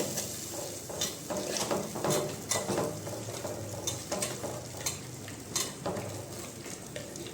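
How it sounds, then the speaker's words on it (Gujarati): Curd being stirred into cooked tomato masala in a pan over a low flame: repeated scraping strokes of a spoon against the pan over a soft continuous sizzle, with no voices. "એમાં આપણે દહીં નાખશું ને ગેસ ધીમો રાખશું દહીં નાખતી વખતે ને સરસ મજાનું હલાવી ને બધું મિક્સ કરશું"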